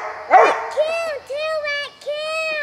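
A young hunting hound bays at two raccoons treed in the woods. After one sharp bark come several drawn-out, howling bawls, loud and fairly close.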